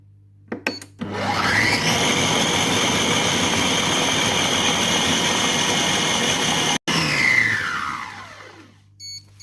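A Compact Cook Pro food processor spins at speed 8, a loud steady whirring motor tone with a high whine, starting abruptly, holding for several seconds with one brief cut, then winding down.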